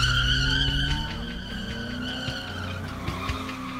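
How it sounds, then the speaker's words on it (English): At a car meet, a car doing a burnout squeals its tires in a loud, sustained screech over a rumbling engine, wavering in pitch as the rubber skids and slips. "A car attempts a burnout but collides with the crowd."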